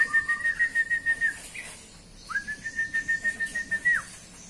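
A newly caught jalak kapas (starling) gives two long, steady, clear whistled calls with a faint wavering pulse, separated by a short pause, heard alone at moderate volume.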